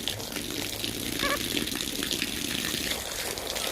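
Water gushing steadily from an outdoor pipe as monkeys play and drink from it, a continuous rushing splash heard up close with people talking over it.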